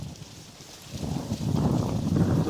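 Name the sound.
wind blowing outdoors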